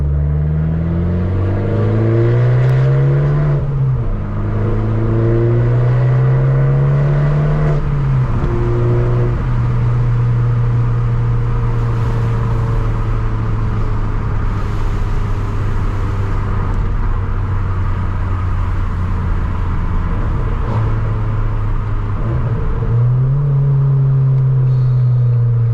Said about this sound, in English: Turbo sounds going here